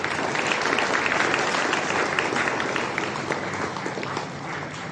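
A crowd claps steadily at a school ceremony, a dense burst of applause that stays strong, then eases slightly toward the end.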